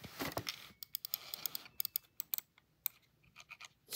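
Clicky typing on a Womier WK61 compact mechanical keyboard, a quick burst of keystrokes followed by separate sharp clacks at an uneven rhythm, close up with no talking.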